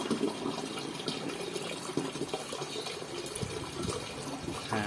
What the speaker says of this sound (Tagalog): ilagay na muna natin yung maligamgam na tubig